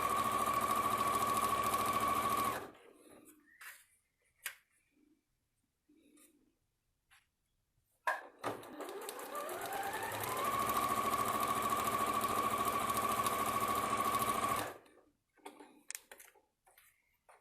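A sewing machine stitches patchwork blocks in two long steady runs of close, loud, even whirring, separated by a quiet gap with a few small clicks and handling noises, and more faint clicks after the second run.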